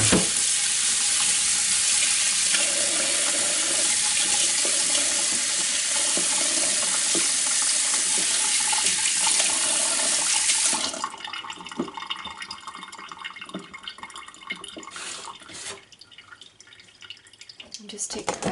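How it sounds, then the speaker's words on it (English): Butter rinsed under a running kitchen tap in a sink, a steady broad rush of water that thins out halfway through into lighter splashing and dribbles, with talk over it. "You can really just rinse it like this a couple of times."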